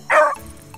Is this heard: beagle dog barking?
yes